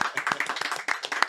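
Studio audience clapping at a podcast recording, a brisk, fairly quiet patter of individual hand claps in uneven rhythm, close and dry, lasting the whole moment.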